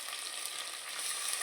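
Onions, green chillies, fenugreek leaves and mint sizzle and fry steadily in hot oil in a pan, with a continuous close crackle and no talking.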